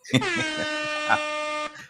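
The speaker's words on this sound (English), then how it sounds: "let's do the air horn again" A loud, sustained air horn blares for nearly two seconds, a harsh buzzing tone with brief bumps in intensity.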